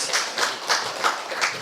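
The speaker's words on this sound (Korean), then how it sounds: "박수 부탁드릴까요?" Audience applause at a talk concert on brain-education-based global citizenship, a fairly close burst of clapping that swells in rhythmic waves through the moment.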